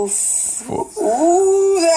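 An excited dog whimpers, yips and lets out rising howl-like cries up close, with high tones running through much of the short stretch.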